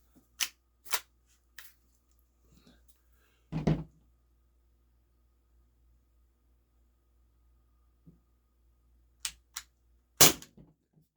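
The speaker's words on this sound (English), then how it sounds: "Walther PDP Compact from Umarex." Walther PDP Compact T4E CO2 pistol from Umarex firing sharp, loud cracks, a handful of isolated shots spaced irregularly with quiet gaps between, plus a couple of fainter clicks.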